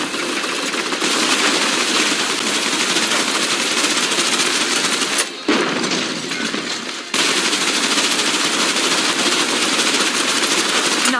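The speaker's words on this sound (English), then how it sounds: "Suppressive fire." Loud continuous automatic gunfire in Snowbreak: Containment Zone roars almost without pause, a dense wall of rapid shots broken by one brief gap midway.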